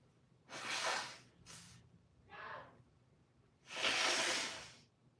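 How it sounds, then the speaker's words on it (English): Several breathy, hissing nasal blows, a couple short and one long and forceful, like someone clearing their nose, close by with no talking. "I have to blow my nose"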